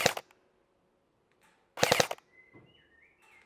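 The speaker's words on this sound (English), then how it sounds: "if we go on a little bit of a burst, and we're going to go for the far target" Arcturus X C.A.T Versatile-5S airsoft gun with a 175mm barrel firing short three-round bursts at a target 60 meters away outdoors, two sharp rapid bursts separated by quiet, with faint distant birdsong.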